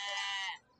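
Lambs at a small-livestock market in Ceyhan give one loud, close bleat that lasts about half a second, then quickly fade to near silence.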